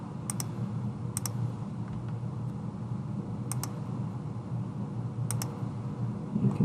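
Short bursts of keyboard clicks come in small paired groups every second or so, close and fairly quiet, over a steady fan-like background hum with no voices.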